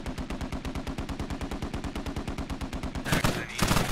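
Sustained automatic gunfire in the tactical shooter Squad, a rapid, even burst of about thirty shots over three seconds, loud and close, ending in heavier blasts.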